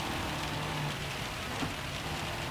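Steady rain in Gran Turismo 7 during a wet race at Le Mans, a soft continuous hiss of falling water with a faint low engine drone beneath, no speech.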